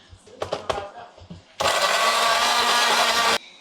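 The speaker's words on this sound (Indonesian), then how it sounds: "Lalu kita blender." A kitchen blender grinds chili spice paste with salt, shrimp paste and oil, first a few short clattering knocks and shuffles, then a loud, steady motor whir for about two seconds before it cuts off abruptly.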